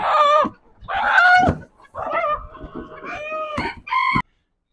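A desi rooster and chickens at a poultry and pet market in Taif give loud, close clucks and squawks in short irregular bursts separated by brief pauses, with no voices.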